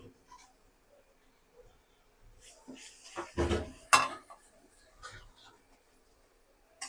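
A spatula scrapes and clinks against a frying pan of egg and noodles in short, irregular bursts, loudest midway, with quiet gaps between strokes.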